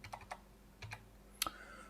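A few quick key clicks on a computer keyboard while typing a short word into a design program's text tool, light and close, with a sharper click near the end and no voices.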